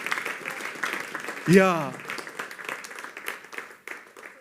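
A church congregation at a Pentecostal service claps hands, a dense crowd applause running throughout with a voice calling out over it.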